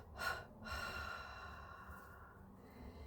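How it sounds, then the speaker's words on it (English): Deep guided breathing, drawn in through the nose and let out through the mouth, with a strong breath near the start and a long, soft, airy exhale that fades over a few seconds, close and alone. "Take in some deep breaths in through the nose, out through the mouth."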